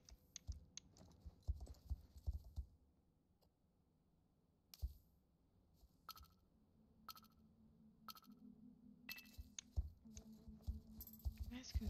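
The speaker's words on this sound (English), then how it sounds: "You guys can still hear my mouse clicks." Computer mouse clicks come as faint, sharp taps, scattered irregularly at first and then in quicker clusters, over a low background hum with some quiet voice activity.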